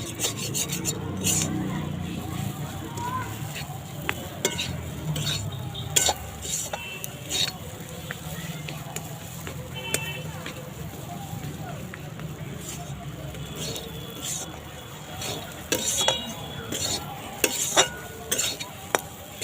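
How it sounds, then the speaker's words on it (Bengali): Mashed green peas mixed with chickpea flour (sattu) being dry-roasted in a pan, with repeated rasping scrapes of a spatula pressing and stirring against the metal over a low hiss, close and steady, while someone talks throughout. "এরকম করে পুরো শুকনো করে ভেজে নেব, যতক্ষণ না মটরশুঁটির গন্ধটা যায় এরকম করে ভাজতে থাকবো।"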